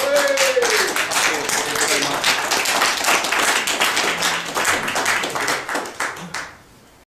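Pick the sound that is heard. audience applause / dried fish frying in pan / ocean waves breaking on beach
audience applause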